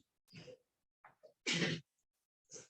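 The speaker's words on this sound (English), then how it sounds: "I have to sneeze, pardon me" A single loud sneeze in a quiet indoor setting, preceded by a short intake of breath and a few soft vocal sounds, then a brief exhale afterward.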